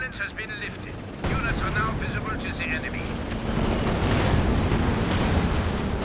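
Anti-aircraft/anti-tank guns fire in Company of Heroes 2 amid a dense battle soundscape, a sharp onset of heavy gunfire and blasts building into sustained rumbling combat with a commentator talking over it.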